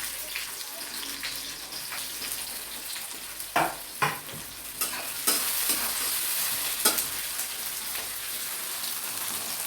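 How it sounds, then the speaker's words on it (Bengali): Sliced onions sizzle in hot oil over a high flame while being fried for chicken biryani, a constant bright crackle broken by a few sharp scraping stirs of the pan. "গরম হয়ে গেছে, এবার আমি পেঁয়াজগুলো দিয়ে দিচ্ছি।"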